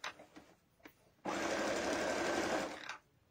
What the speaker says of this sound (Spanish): yo acá vamos a pasar costura recta